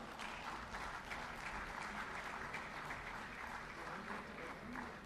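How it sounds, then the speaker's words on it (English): Applause for Team NIPCO at a felicitation ceremony for completed school toilets, a dense, even wash of clapping from an audience, heard at a distance and fairly faint, with no voices over it. "may I request for a round of applause"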